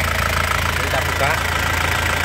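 A black 2006 GT car engine idles warm in a steady, loud, low rumble, with someone talking over it.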